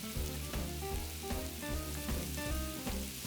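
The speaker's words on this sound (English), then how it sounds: "you just wanna break up the sausage as it's cooking and while it's browning" Crumbled sausage browns in a hot pan, giving a dense, continuous close sizzle with crackling pops and no talking.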